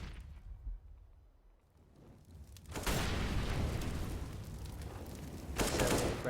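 Gunfire in a Counter-Strike match on the map Train, a player going down: after a quiet lull, a loud burst of rapid shots breaks out, continues, then intensifies again at the end.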